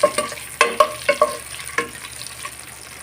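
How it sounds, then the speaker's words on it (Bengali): Eggs fry lightly in a pan for an egg do pyaza, a soft sizzle punctuated by several sharp spatula clinks and scrapes in an uneven rhythm, close by with no voices. "ডিমগুলো আমি বেশি কড়া করে ভাজবো না হালকা করে একটু ভেজে নিই"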